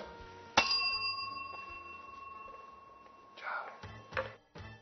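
A small hand bell rung at a dinner table on an Italian cooking show gives one sharp ding with a long ringing tail, then lighter jingles, under quiet talk.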